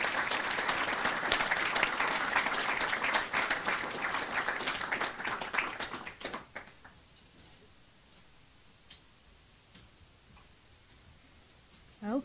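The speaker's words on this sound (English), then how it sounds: "let's give a round of applause congratulating Chloe." Audience applause at a university alumni and student awards ceremony, a dense burst of clapping that fades out after about six seconds, leaving near silence with a few faint sounds.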